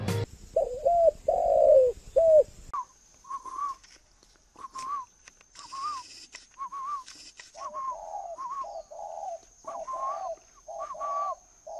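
Breeding doves coo in a series of soft, repeated rounded calls, close and clear against near silence, with an earlier burst of louder cooing at the start.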